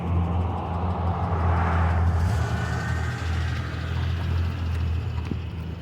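Street traffic passes as a continuous, fairly loud rumble and whir of vehicles, with no talking over it.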